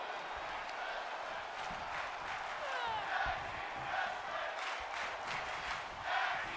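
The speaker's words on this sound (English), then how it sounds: "Listen to that. You can hear the crowd is loving this." A wrestling event crowd cheers and roars continuously, a broad wash of distant voices swelling in a few spots.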